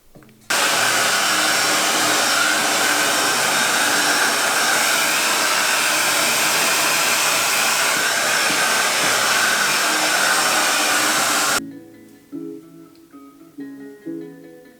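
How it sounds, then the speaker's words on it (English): A Pattern hair dryer roars steadily at close range for about eleven seconds, then cuts off abruptly, leaving quieter background sounds. "Pattern blow dryer, of course."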